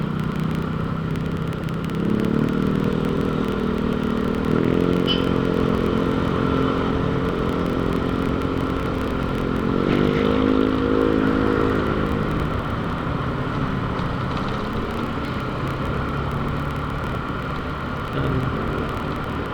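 A motorcycle engine drones steadily nearby, its pitch rising and falling as it revs and passes, with constant traffic-like rumble and no speech.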